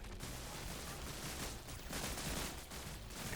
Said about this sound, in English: And we've got some heavy gunfire over here.